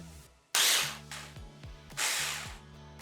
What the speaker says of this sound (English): Let it cool slightly and then blend it until it's smooth.